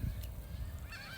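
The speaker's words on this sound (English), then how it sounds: "the ducks and the geese and all, they all show up around 2:30, 3 o'clock" Geese honking at a pond: several harsh honks from a few birds at a moderate distance over about a second, with no talk.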